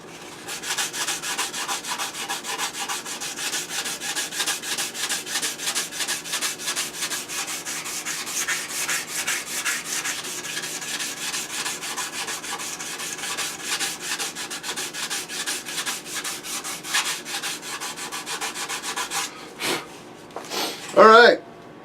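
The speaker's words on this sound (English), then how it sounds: "I'm just going to start sanding and see how quickly that moves along" Hand sanding a laminar flow side cheek, a steady rhythmic rasping of back-and-forth strokes close to the microphone, continuing for a long stretch before a short pause and a final burst of handling noise.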